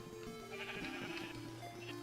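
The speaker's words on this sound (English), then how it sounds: "Look at all those naked little sheep." Sheared sheep in Minecraft bleat softly, a couple of faint wavering calls overlapping over a quiet game background, with no talking.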